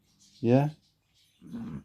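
A dog lying on a person's lap lets out a short growling whimper, then a softer low grumble, close and intimate, with a brief spoken word nearby.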